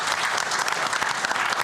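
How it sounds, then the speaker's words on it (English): A crowd claps steadily, a dense wash of applause from many hands throughout, with no voices on top. "A round of applause for"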